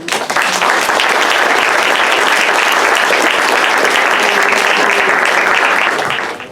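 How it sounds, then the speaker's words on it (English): Sustained, dense applause from an audience at a ribbon cutting and panel event in Monterey, California, steady and loud from start to finish before tapering at the end, with no speech over it. "So I want to give you one more round of applause."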